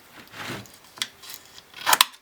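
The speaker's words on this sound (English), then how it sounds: "the plastic does get sharp. Go ahead and trim up the edges" Scissors trim the sharp edges of a cut plastic bottle, making a few quick snips and crisp plastic crackles near the end. Softer handling rustles come before them, and no one speaks.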